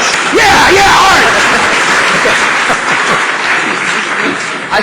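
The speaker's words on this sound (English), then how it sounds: "to a very light smattering applause" Light scattered audience applause from a small crowd, steady clapping that swells early and then thins out over several seconds, with a voice briefly audible under it.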